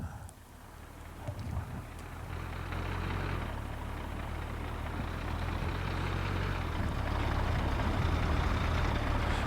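In the Workers & Resources: Soviet Republic city-building game, truck engines hum in a low, continuous drone that builds slightly and holds steady, with a faint wash of background noise and no speech.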